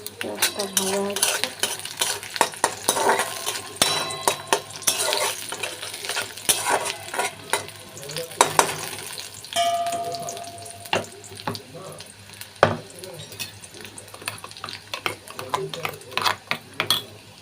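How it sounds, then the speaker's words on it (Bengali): A small onion frying with nigella seeds in oil in a kadai, a low sizzle under frequent metal spatula scrapes and clanks against the pan, irregular and close throughout. "পেঁয়াজটা ভাজা হচ্ছে।"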